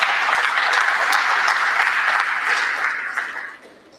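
Audience applause at a distinguished personality lecture: full, continuous clapping from a room of listeners, steady for about three seconds before tapering off quickly.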